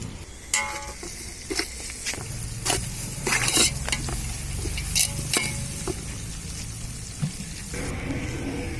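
Onions frying in a pot for fish biryani, cooked outdoors by a thatched hut, sizzling steadily as a spoon stirs and clinks against the metal in irregular strokes; close and fairly quiet, no talking.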